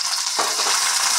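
Crabs go into a hot frying pan with chilli and spices, producing a loud, steady close sizzle with a brief stirring scrape near the start.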